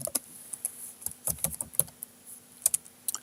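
Rapid clicking of fingers typing on a computer keyboard, irregular bursts of sharp key taps close up, with no voices.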